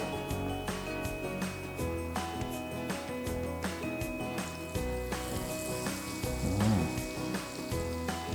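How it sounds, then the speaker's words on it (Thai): Battered bananas deep-fry in hot oil, giving a continuous, busy sizzle with rhythmic bubbling pops at moderate loudness and no talking. "น้ำมันก็คงร้อนพอดีแล้วครับ ต่อมาก็ เตรียมทอดเลย"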